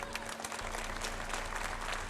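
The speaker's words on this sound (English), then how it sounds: "there was applause, respect and love for a family needing comfort at this, the hardest of times" Applause rises from a gathered crowd at a memorial, a dense steady patter of clapping at moderate distance, with a voice speaking over it.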